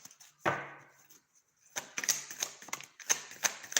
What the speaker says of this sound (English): And we're going to shuffle this right here.